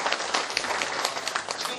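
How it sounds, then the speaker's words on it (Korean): Applause from a live audience at a happiness lecture for county office staff, dense steady clapping filling the whole moment, fairly loud and close with no talk over it. "박수 한번 쳐주셔도 좋죠"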